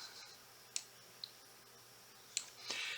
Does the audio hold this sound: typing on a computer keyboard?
yes